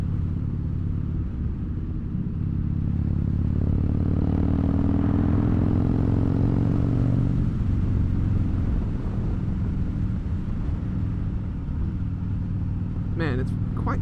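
A Harley-Davidson Dyna Fat Bob (FXDF) with a 1690cc engine rumbles steadily through the whole ride, its engine note rising and falling loudly up close, with a brief sharper sound near the end.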